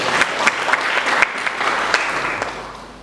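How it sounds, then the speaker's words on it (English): A short burst of audience applause fills a room at a youth leadership talk, a few sharp claps standing out before it tapers off over three seconds. "You can clap for her."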